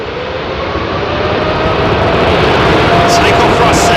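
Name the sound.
jet airliner at take-off thrust departing Heathrow runway 27R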